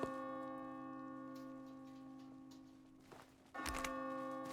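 A clock tower ticks steadily in a video game, faint and regular over a sustained tonal hum. A few louder knocks come near the end.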